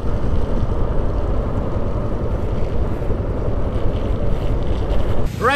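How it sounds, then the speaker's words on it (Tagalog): Strong, steady stormy wind roars and buffets the microphone continuously, a dense rumbling rush on a rainy mountain road, with no voices. "Pero parang may bagyo, oh. Lakas ng hangin."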